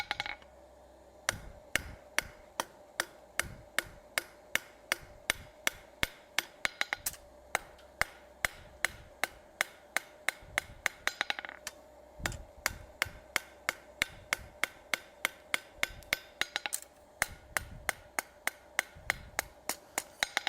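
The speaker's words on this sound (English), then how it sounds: "My hammer's not banging the anvil, it's only staying on the material." Steady, rhythmic hammer blows on hot metal at an anvil while forging, sharp ringing strikes repeating roughly every half second, close and loud, with no talking.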